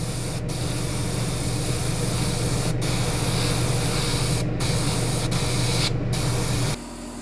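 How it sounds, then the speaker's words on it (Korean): Steady airbrush hiss spraying paint onto a Gunpla plastic model, a continuous close spray running for several seconds with brief breaks before it drops lower near the end. "분사량을 좀 줄여 가지고 천천히 칠하면 됩니다"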